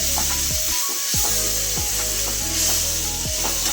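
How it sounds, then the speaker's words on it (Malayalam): Chopped onions sauté in a pan for a Kerala tomato curry, a loud continuous sizzle broken by repeated scraping strokes of a stirring spoon against the pan, with no talking. "നമുക്ക് സവാള അരിഞ്ഞ് വെച്ചിട്ട് വഴറ്റാം"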